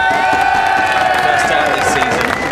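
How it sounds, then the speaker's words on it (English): A crowd cheers loudly and steadily at a DTM touring-car podium ceremony at the Hungaroring, with whistles and shouts blending into a continuous roar throughout. "with his second visit to the podium, with a big cheer for him"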